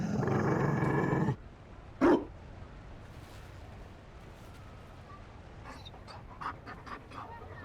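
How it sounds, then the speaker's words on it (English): A dog pants and growls in Dragon Age: Inquisition, with a loud broadband burst at the start, a short sharp sound near two seconds, then quieter breathy panting and brief higher yelps toward the end. "You found a dog?"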